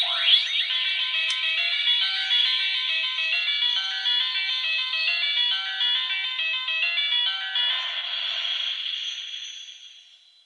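A Sailor Moon Moon Stick Proplica wand toy plays a bright electronic chime melody with sparkling tones for about ten seconds. It sounds alone and steady, then fades out at the end.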